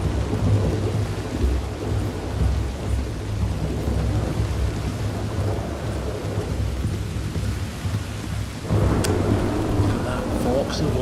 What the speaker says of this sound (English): Of lightning in the distance.